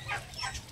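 Turkeys at feeding time on a farm, fed a corn mash, give a brief, faint burst of gobbling and clucking.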